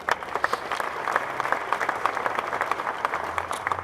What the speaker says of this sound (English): So give yourselves a round of applause there.